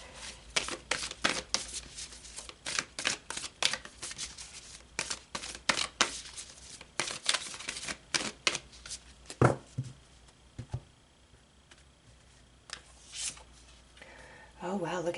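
Tarot cards being shuffled and pulled, a run of crisp riffling flutters and snaps, close and fairly quiet, with short pauses between bursts and a brief stretch of talk near the end.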